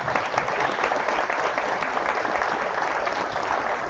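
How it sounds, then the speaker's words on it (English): Sustained audience applause at a Hall of Fame gala, a dense, steady clapping from a large crowd filling the room at full volume with no voices standing out. "Another round of applause for that."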